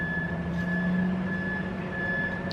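Reversing beeps from a vehicle outside, a steady repeating electronic tone held at a constant level over low engine rumble, with no talk.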